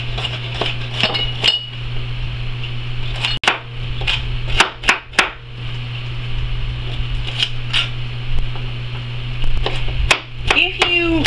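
Knife chopping broccoli stems into tiny pieces on a cutting board, a run of sharp irregular taps spread over several seconds, fairly close, with a steady low hum underneath.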